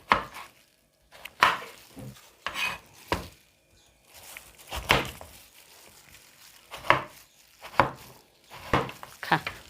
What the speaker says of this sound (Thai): เดี๋ยวเราจะหั่นฟักก่อนนะคะ